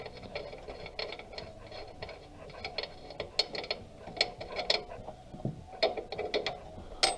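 A ratcheting wrench clicks steadily while a nut comes off the shock under the fender of a Toyota 4Runner, with quick irregular metallic ratchet bursts at close range and no talking.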